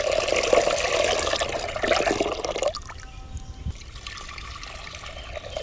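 Water poured into a cooking pot of dal with salt and turmeric for sambar, a steady splashing trickle for a few seconds before it cuts off and leaves quieter kitchen sounds.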